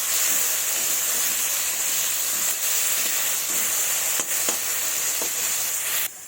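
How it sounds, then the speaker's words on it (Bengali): Potato pieces fry in hot oil seasoned with salt and turmeric, giving off a constant bright sizzle and hiss, with a few faint clicks and pops scattered throughout until the sound drops away at the end. "অল্প একটু হলুদ গুঁড়ো দিয়ে আলুগুলোকেও আমি লাল লাল করে ভেজে নেব"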